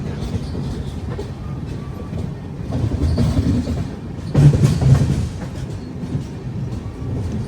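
The Rayalaseema Superfast Express rumbles along steadily from inside the coach, a low continuous roll with swelling clatter and a brief surge midway.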